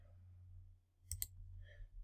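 Two quick, faint computer mouse clicks in close succession over a steady low hum, followed by a soft brief noise.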